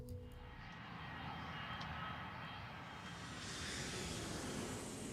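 A Boeing Dreamliner airliner's jet engines roar in a steady, loud, broadband wash that holds for several seconds and swells slightly toward the end, with no voices over it.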